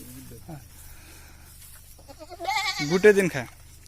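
A Beetal goat on a goat farm in Assam lets out a loud, close bleat near the end, after quieter moments with a voice speaking.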